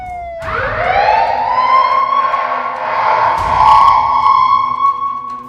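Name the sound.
police car sirens at night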